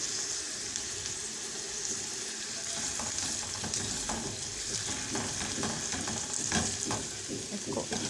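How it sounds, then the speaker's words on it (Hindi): Chopped garlic cloves frying in a pan, a steady close sizzle with intermittent scraping and stirring clatter throughout, no talk over it. "इसको इतना पकाना है कि गार्लिक की खुशबू आने लगे"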